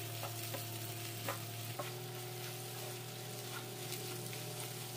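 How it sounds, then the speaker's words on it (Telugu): Grated raw mango frying steadily on a medium-low flame, a continuous soft sizzle with occasional light stirring scrapes, close and alone without any voices. "ఈ మామిడి తురుముని పచ్చివాసన లేకుండా 8 నుంచి 10 నిమిషాల పాటు మీడియం టు లో ఫ్లేమ్లోకి అయితే అడ్జస్ట్ చేసుకొని"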